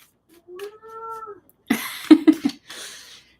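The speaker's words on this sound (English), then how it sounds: "The cats are gonna make fun cat noises as they tend to do." Cats meow indoors: one drawn-out, tonal meow followed by a burst of rougher, choppy cat calls and a softer trailing vocalization, close and fairly loud.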